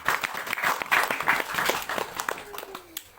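An audience at the inauguration of a Christian kindergarten building in Nabire, Papua claps, with scattered, uneven claps that thin out toward the end and a little faint talk mixed in.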